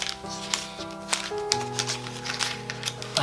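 A paper wrapper on a McVitie's Club mint chocolate biscuit is torn and peeled open close by, a string of crisp rustles and sharp crinkles over faint background tones.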